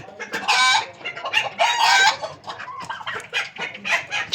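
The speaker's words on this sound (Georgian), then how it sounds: "უყურე გეხვეწები ქათმები სადავიდრე" Chickens cluck loudly and agitatedly close by while a rooster crows, in bursts of squawking with brief pauses between them.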